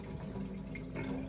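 Running tap water rinsing white rice in a pot, a short, close, steady splashing and trickling without a break.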